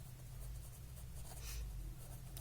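Pen or chalk writes out a math equation in a steady, faint scratching stroke over a low background hum, with no speech.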